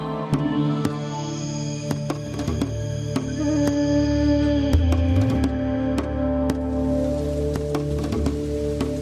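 Heavy rain in Cherrapunji, India, pouring in a steady loud wash, with sharp drips and taps scattered through it and a constant low hum underneath.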